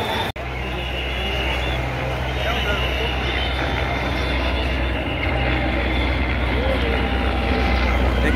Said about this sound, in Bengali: দেখতেই পাচ্ছেন সামরিক হেলিকপ্টার চলে এসেছে।